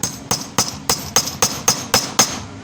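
A leather punch is hammered through a belt in a leatherworking class: nine sharp, evenly spaced strikes in quick succession, close and clear.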